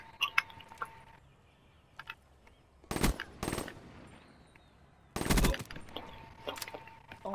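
Gunfire rings out in Call of Duty: Black Ops III, coming as two short sharp volleys a few seconds apart. Faint scattered game sounds fill the quieter stretches between them.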